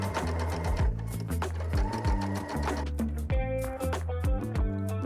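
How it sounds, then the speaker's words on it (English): Sewing machine running a straight seam along the folded edge of bandana fabric, a loud, close, continuous rapid stitching rhythm with repetitive thumps throughout. "Start at one end and sew all along the edge, making sure your needle is close to the top of the fold."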